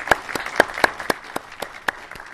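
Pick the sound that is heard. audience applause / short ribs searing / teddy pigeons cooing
audience applause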